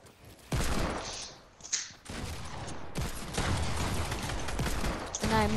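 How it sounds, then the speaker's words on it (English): Loud, heavy shotgun blasts in a video game come in separate bursts, each followed by rumbling noise that fills the gaps, and a denser stretch of firing runs toward the end. "And I miss every shotgun shot."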